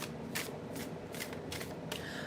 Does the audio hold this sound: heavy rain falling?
no